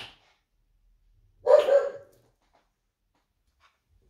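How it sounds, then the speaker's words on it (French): Pet dog Laiko lets out a brief burst of barking indoors, a loud yappy cluster lasting about half a second, between otherwise quiet stretches and a faint word beforehand. "c'est mon chien qui pète un câble"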